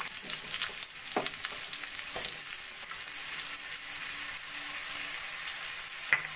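Thin potato slices fry in oil in a wok with a steady, bright sizzle, broken by a few sharp scrapes and clinks of a stirring spoon.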